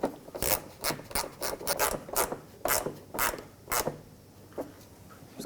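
Screw being driven by hand into a 2009-2015 Toyota Prius front fender liner: close, irregular bursts of rasping, ratcheting turns with short pauses between, fairly quiet and alone.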